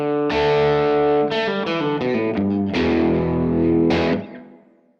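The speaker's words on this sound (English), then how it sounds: "I flipped over to the bridge pickup right there to give you more of that bite." A sharp, biting electric guitar, a Reverend AirSonic W on its bridge pickup, plays a short overdriven phrase of quick picked notes and chords, ending on a sustained note that fades out.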